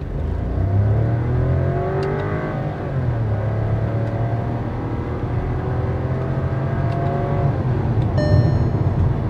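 2022 Skoda Slavia 1.0L six-speed automatic accelerating in manual mode with paddle shifters, the engine note climbing through gears with audible drops at each upshift, heard from inside the cabin.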